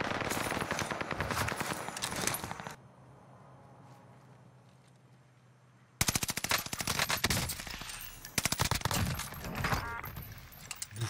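Rapid bursts of automatic gunfire in Call of Duty Warzone Pacific, loud and dense, broken by a quieter gap in the middle before heavy firing resumes and continues to the end.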